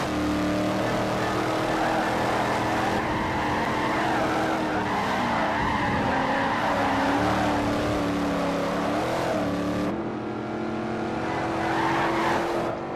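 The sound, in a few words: Trans Am race cars racing in sim racing video game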